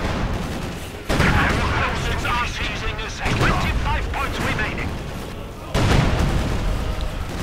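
Heavy gunfire and booming explosions rage throughout a World War II strategy game battle as a Panzer IV tank is destroyed, dense bursts of cannon and rifle fire filling the scene loudly and continuously with voices mixed in.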